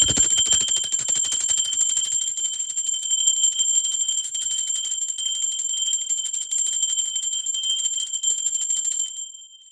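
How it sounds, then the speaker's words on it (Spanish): A bright metallic bell rings in a sustained high shimmer for several seconds, loud and close, then decays near the end, struck as part of a spiritual energy ritual. "Va campana, va campana."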